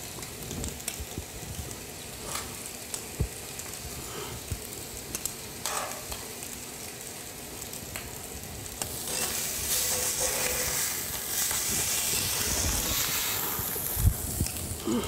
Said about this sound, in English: That's why we're cooking the tomatoes at the last minute.